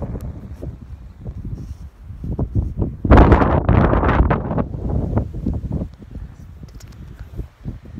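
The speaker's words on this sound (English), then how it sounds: "It's very windy." Strong wind buffets the microphone on a seaside outing near San Francisco, roaring in uneven gusts that swell loudest in the middle and fall back to a rumble, with no voices over it.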